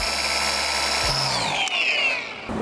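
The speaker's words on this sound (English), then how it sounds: "Okay, so now I'm just gonna polish it." Power polisher buffing touched-up car paint on a scratch repair, a close steady high whine that drops in pitch as it spins down partway through, with no talk.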